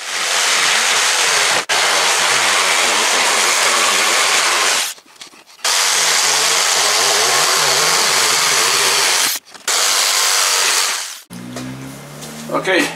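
A jigsaw cuts through a large wooden board, its loud buzzing, rasping whine running in long sustained passes with brief pauses between them, close by and dominating the scene.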